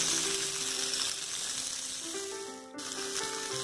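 Eggplant pieces fry and get turned in a pan, giving a steady close sizzle with a brief drop and scrape partway through before the hiss resumes.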